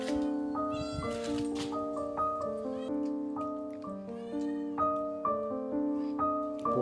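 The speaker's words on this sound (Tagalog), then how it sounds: "Pusa pa oh." A cat meows repeatedly at a cemetery in drawn-out, tonal calls, close and fairly loud, one after another with short pauses.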